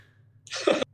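A single sharp sneeze bursts out close by, brief and explosive, over a low steady hum.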